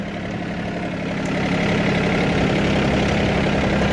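A VST 932DI 30hp tractor engine runs steadily at idle, a loud, close, continuous low diesel rumble with vibration and no speech over it.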